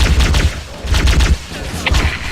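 Bursts of rapid gunfire in the video game Halo: Combat Evolved crackle in quick clusters with short pauses between volleys, loud and close.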